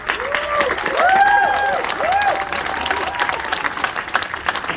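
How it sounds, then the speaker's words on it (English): A crowd at a Good Friday vigil for Ukraine claps steadily and warmly, with a few whistles and cheers rising over the dense applause. "Let's applaud the heroes of Ukraine."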